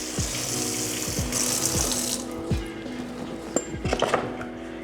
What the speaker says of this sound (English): Just rinse my board.